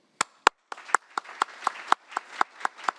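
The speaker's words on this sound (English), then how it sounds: "But first, a big applause." An audience applauds after a talk on power systems and markets in Denmark, with sharp, fairly regular claps that sound like a modest crowd, steady and close for about three seconds.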